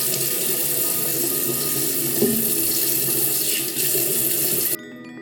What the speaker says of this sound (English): I'm gonna wet my hair